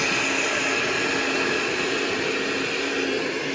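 A blender grinds vegetables for Guatemalan pepián sauce with a loud, steady, high motor whine and whirring that holds unchanged from start to finish, with no talking.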